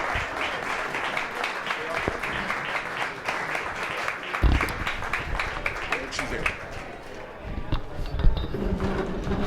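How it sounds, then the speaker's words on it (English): An audience applauds a featured guest at a business event, with dense sustained clapping for several seconds and a voice talking briefly near the end. "Please give him a nice round of applause"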